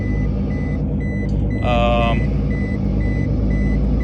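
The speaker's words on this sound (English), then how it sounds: "Dangerous target was detected, so change alarm. That's a collision alarm." A collision alarm aboard a Tartan 31 sailboat sounds off for a dangerous target, a short burst of rapid electronic beeps rising over a steady low engine and boat hum, with faint background tones.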